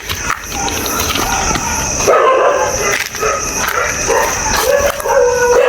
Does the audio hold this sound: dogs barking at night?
yes